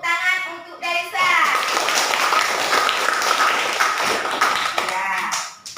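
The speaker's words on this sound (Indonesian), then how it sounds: "Kita kasih tepuk tangan untuk Delisa." Applause and clapping from a classroom audience of students for a pupil named Delisa during an Islamic religious education lesson, a dense steady burst lasting several seconds, with brief speech before and after.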